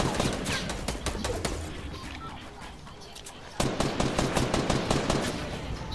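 Rapid automatic gunfire from the video game Fortnite rattles on without pause, dense bursts of shots that jump louder partway through, with no talking over it.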